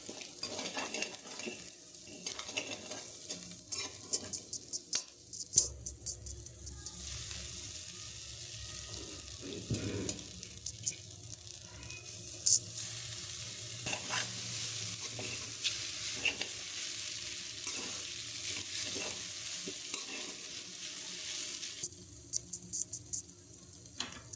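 Maggi noodles with egg and salt being stirred in a pan, soft wet sizzling with repeated scraping and clacking of a utensil against the pan, fairly quiet and close, with sporadic sharper knocks.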